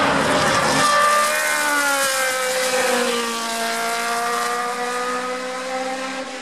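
A McLaren racing car powered by a Cosworth DFV engine passes by, its high-pitched engine note rising loud and then falling away in a clear Doppler sweep, with no talk.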